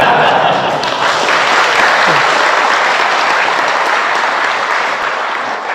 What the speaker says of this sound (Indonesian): Kenapa jadi tepuk tangan begitu?